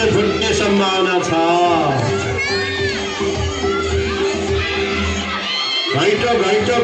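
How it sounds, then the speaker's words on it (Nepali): A school crowd at a pot-breaking game during an anniversary event cheers and shouts, with children's voices rising in whoops over steady loud babble; clapping is not clearly distinct. "जोडले ताली बजाएर स्वागत गरौँ"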